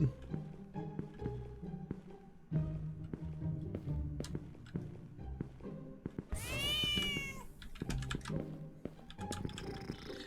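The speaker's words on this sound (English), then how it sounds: "If the cat sounds like it's really close to me, it's probably the gray cat." Cat meows from the FNAF-like horror game Howler ring out over game sound effects and clicking, including a rising, wavering cry around the middle, some sounding close.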